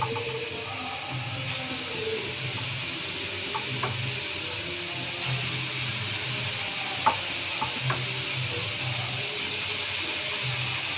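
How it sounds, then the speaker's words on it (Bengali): Grated carrots hit a hot wok for carrot halwa, a steady close sizzle and hiss running throughout, broken by a few light knocks of a spoon against the pan. "এখন কড়াইতে আমি গাজরগুলো ঢেলে দেব।"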